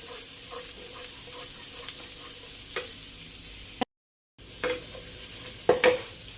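Garlic frying in a pan over low heat, a soft continuous sizzle with occasional spatula scrapes, briefly cut to silence midway before the frying resumes with a couple of louder clinks, close and moderate in level.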